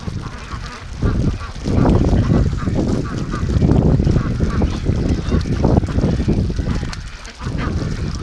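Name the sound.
Brant geese honking in a flock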